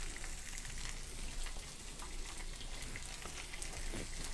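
Salmon fillet searing in a hot pan, a steady close crackling sizzle with scattered pops, continuous and without talk.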